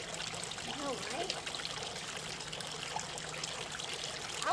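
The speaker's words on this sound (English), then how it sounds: "I never knew a waterfall could mist so much." A misty waterfall gives a constant, dense rush of falling water, steady and loud throughout with no break.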